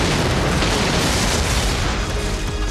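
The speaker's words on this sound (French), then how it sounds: "Au montage final, 12 plans sont utilisés pour construire la méga-explosion." A huge special-effects explosion for the film Universal Soldier: The Ultimate Fight roars as a dense, loud, sustained rumble that fills the whole clip without easing off.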